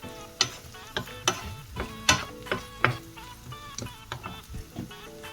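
Cut potatoes frying with cooked-down spices in a pan, a light sizzle broken by repeated sharp scraping and clanking of a utensil against the pan in an irregular rhythm.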